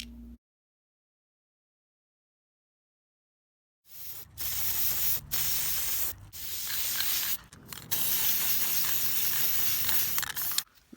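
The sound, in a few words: silver spray paint spraying onto foam dice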